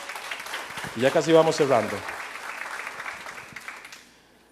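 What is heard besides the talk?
church congregation applause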